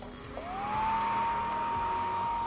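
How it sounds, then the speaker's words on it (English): A small USB-powered fan inflating an Among Us cosplay spacesuit spins up after a brief click, settling into a steady close whir with a rising then constant tone. "Sounds like a fan."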